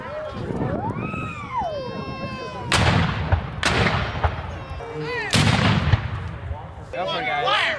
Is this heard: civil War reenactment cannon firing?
yes